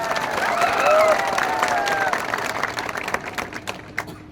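Crowd applause at a political rally of the Tipra Motha party, a broad wash of clapping and cheering that swells early and then thins into scattered claps, with faint talk underneath.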